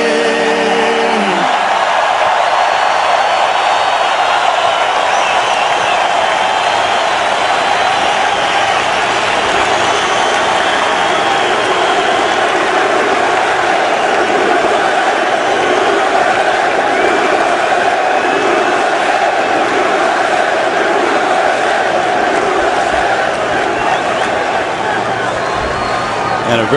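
A stadium crowd of 80,000 at a Cowboys versus Jets football game, a loud continuous roar with chanting blended into a dense wall of sound throughout, with a voice talking over it.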